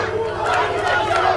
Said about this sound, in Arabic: جميع الجمهور متفاعل مع احمد شو